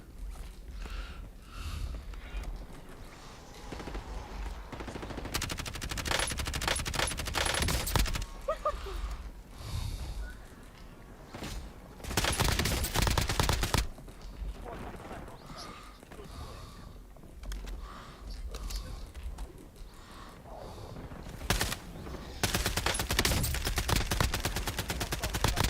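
Rapid gunfire from a whole magazine being emptied in the Warzone video game, repeated bursts of shots across the stretch, with loud busy game noise throughout.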